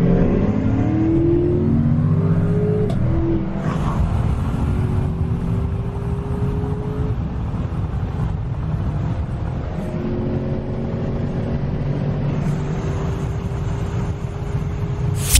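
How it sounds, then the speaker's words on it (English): Exotic supercars rumble past at a high school gathering, with engines revving and accelerating in loud, overlapping passes and rising pitch sweeps that stay close by. "we have about 15 cars so far that's gonna drive by and show him"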